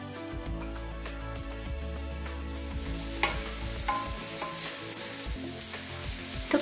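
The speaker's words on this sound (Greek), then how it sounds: "αδειάζουμε μέσα το λάδι, το κρεμμύδι και θα το σοτάρουμε για μισό λεπτό" Chopped onion sautéing in oil in a frying pan on a stovetop for moussaka, a continuous close sizzle and crackle that grows slightly louder and denser, with faint tonal background sounds underneath.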